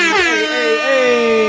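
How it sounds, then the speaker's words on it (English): Loud, sustained air horn blast, a stacked bright harmonic blare with a slight pitch dip midway, heard alone up close at a Sacramento Kings basketball broadcast. "Let's let them air horns fly for Friday, baby."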